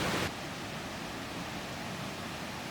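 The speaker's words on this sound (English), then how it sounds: "The sound of rushing water replaces the ping of notifications." Steady rushing water from a forest stream in a palm forest, a continuous broadband wash heard alone, with a brief louder burst at the very start.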